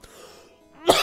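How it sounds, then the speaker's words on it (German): A single burst of coughing bursts out loud at the end of a quiet stretch, following faint background tones during a Minecraft session. "Da krieg ich gerade einen Hustanfall."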